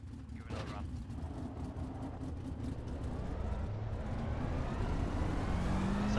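A non-wing 410 sprint car engine in the iRacing sim drones steadily and loudly, with its revs rising gradually toward the end.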